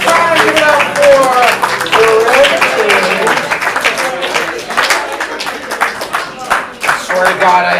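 Audience at a CSz Portland comedy improv show applauding, dense clapping under laughter and cheers that fade toward the end, with a voice talking over it.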